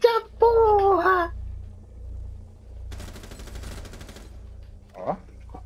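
Burst of rapid gunfire in a Rainbow Six Siege match, a dense automatic volley lasting about a second and a half at moderate distance, with a voice talking just before.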